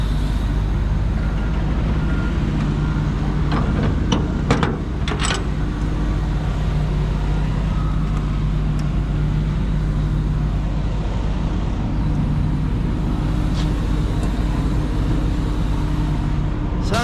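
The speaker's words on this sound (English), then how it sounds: "Sounds like that air tank is still filling up." A parked truck idles steadily with a constant low engine hum while its air tank fills, a few brief clicks and hisses near the start and scattered faint ticks later.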